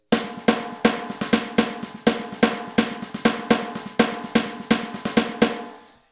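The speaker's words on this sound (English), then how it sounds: "you're hearing the accent pattern within that single stroke roll" A drum plays a fast, even roll of single strokes, with some hits noticeably louder in a repeating accent pattern. Played alone, then it stops.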